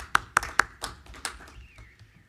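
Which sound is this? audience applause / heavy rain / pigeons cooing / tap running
audience applause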